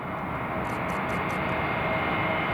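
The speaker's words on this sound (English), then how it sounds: "British Airways A320 from London." A British Airways A320 airliner from London at Newcastle Airport roars steadily with a broad, sustained engine rumble, moderately loud and heard alone.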